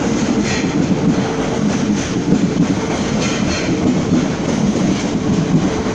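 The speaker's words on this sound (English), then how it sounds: "I'll let the train pass by." Train passing close by, a loud continuous rumble and rattle of wheels on track with faint clickety-clack rhythm and a hint of squeal, steady throughout with no voices.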